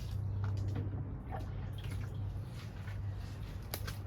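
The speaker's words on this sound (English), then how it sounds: "I want them to get a good water out here" Water pouring and dripping onto potted plants inside a greenhouse, a steady close splashing wash with scattered drips and a low hum underneath, no talking.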